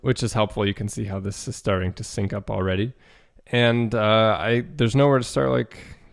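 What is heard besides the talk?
No everyday noise stands out behind the speech.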